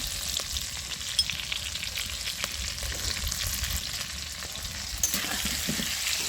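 Potatoes fry in oil with a steady, close sizzle and soft stirring scrapes, plus a couple of sharper knocks of a utensil against the pan.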